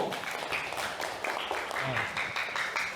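Applause from a group, dense scattered clapping with a few voices mixed in, fairly close and steady throughout.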